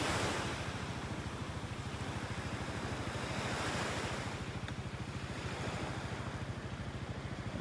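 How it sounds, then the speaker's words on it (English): Steady wind blows across a beach in North Naples, Florida, with surf washing ashore in a continuous low roar throughout, no voices. "Nice little breeze blowing out here."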